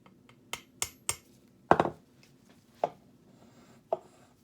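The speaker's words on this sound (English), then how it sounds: "You can tap it with a hammer." Light metal taps of a hammer on a spokeshave iron being adjusted: several sharp, separate knocks spaced unevenly, including a quick double tap, close and fairly quiet with no talking.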